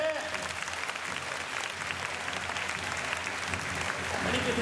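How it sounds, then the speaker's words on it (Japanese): An outdoor theme-park show crowd at Universal Studios Japan's Water World claps steadily to welcome two performers, the applause continuous and building slightly, with voices mixed in. "2人を拍手で迎えちゃってくれ"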